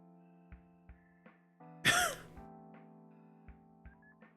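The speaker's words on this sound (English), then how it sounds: "That's a good cough." A single sharp cough bursts out loud and close over quiet rhythmic background music with soft regular beats.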